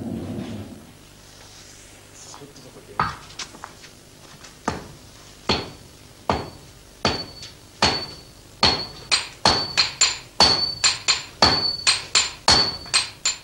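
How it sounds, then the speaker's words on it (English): Hammer blows forge iron for a Japanese sword. Sharp metallic strikes ring out one by one at first, then come faster and louder in a quickening, ringing rhythm, with no voices. "It is purified by hammer blows and by pouring a liquid made from ash over it."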